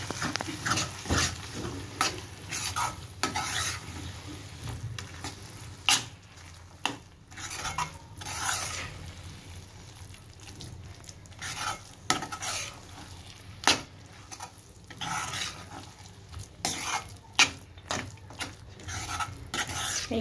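Pav bhaji vegetables sautéed and stirred in a home kitchen pan, with repeated clanks and scrapes of a spoon against metal over a soft sizzle, irregular and close, without speech.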